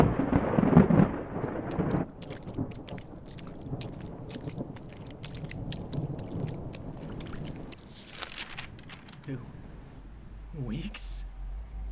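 A thunderstorm rumbles in a deep, heavy roar for the first two seconds, then a softer stormy wash with scattered cracks continues under voices and other sounds through the rest.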